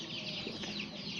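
A dense chorus of chickens clucking and chattering on a poultry farm just after feeding, continuous and fairly close, with no voices over it.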